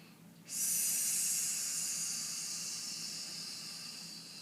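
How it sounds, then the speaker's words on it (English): A person in a breathing lesson takes a long, steady breath, a soft close airy hiss that starts abruptly and slowly fades over several seconds, with no talking. "So go ahead and give me a couple more breaths."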